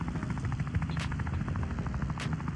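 A helicopter in the Wobbly Life video game makes a loud, steady rotor chop with a rapid rhythmic pulse and a continuous engine drone, cut by a couple of sharp bursts.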